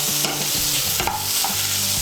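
Chopped tomato stirred into hot oil for a Bengali chana dal tadka, giving a steady close sizzle with a few scraping stirs of the spoon and no voices.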